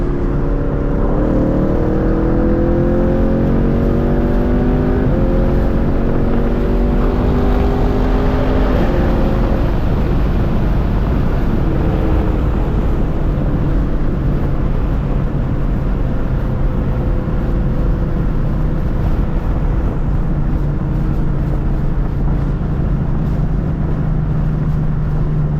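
A 2023 Chevrolet Camaro SS V8 with the muffler and secondary catalytic converter deleted drones loud and close, pitch climbing through gears, then settling into a deep steady cruising rumble with no talk.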